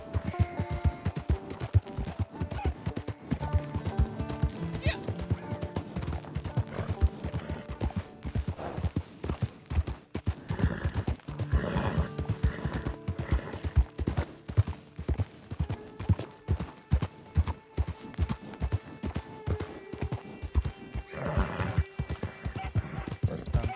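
Galloping horse hooves in Red Dead Online, a steady rapid clip-clop that runs throughout at a driving pace, with occasional snorts and game ambience layered in.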